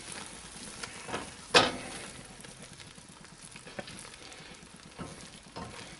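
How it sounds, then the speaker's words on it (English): A spatula scrapes and stirs a thick, simmering pineapple habanero relish, its soft, steady bubbling sizzle broken by a few louder scrapes and one sharp clack against the pan. "I do recommend stirring nearly constantly with this"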